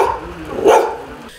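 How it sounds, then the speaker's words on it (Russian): An Alabai, a Central Asian Shepherd dog, gives a single loud bark, with faint noise before and after it. "Соседская собака породы алабай держит их в страхе."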